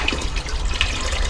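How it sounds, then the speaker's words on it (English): Citric acid solution draining out of a fuel tank, a short close trickle and splash of liquid with small drips, heard alone. "We'll just drain all the citric acid out of it."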